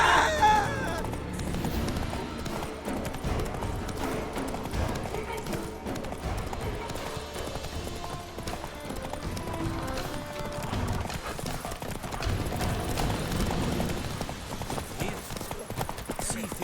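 A horse gallops with steady clip-clop hoofbeats in The Witcher 3: Wild Hunt, heard over game music and ambience for the whole stretch, with some faint voice sounds mixed in.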